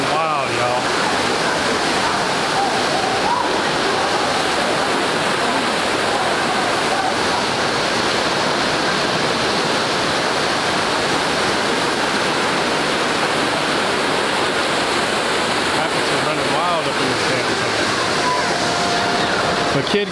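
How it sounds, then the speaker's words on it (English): River rapids at Silver Dollar City amusement park in Branson, Missouri, rush loudly and steadily in a dense, continuous roar of churning water, close by with no pauses. "Rapids are running wild,"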